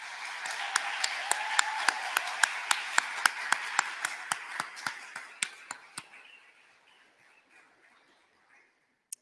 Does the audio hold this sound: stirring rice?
no